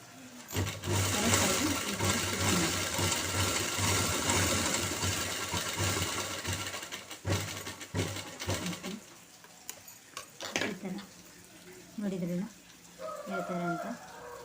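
A sewing machine runs continuously while stitching the side seam of a top, a loud steady whir for several seconds, then stops and starts in short bursts as a person talks.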